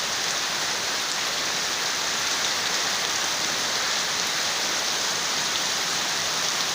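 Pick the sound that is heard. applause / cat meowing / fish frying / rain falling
rain falling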